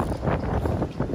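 Strong hurricane gust roaring across a marina, heard as dense, blustery wind noise buffeting the microphone in one loud, unbroken rush.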